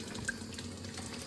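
Water running from a reverse osmosis system into a sink, a faint steady trickle with a light drip.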